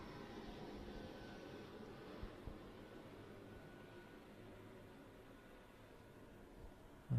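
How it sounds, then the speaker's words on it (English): Aircraft engine noise hangs over a women's semi-final football match at Broadmeadows Valley Park, a steady distant rumble with faint crowd and field sounds beneath. "As the planes go over"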